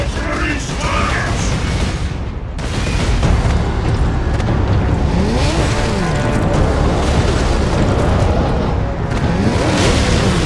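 A grenade blast in the Warhammer 40k: Space Marine game on PS3, a loud booming detonation that rolls into a dense, sustained wall of battle rumble and clatter, with a shouted voice briefly over it.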